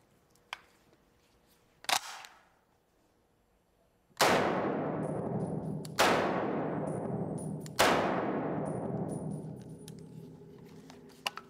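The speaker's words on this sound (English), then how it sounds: "Now, this is a Browning 30-06 caliber semi-automatic rifle, and this is used more so in hunting." A Browning .30-06 semi-automatic hunting rifle fires three loud, sharp shots about two seconds apart, each ringing out with a long decaying echo, after a couple of fainter clicks and clanks beforehand.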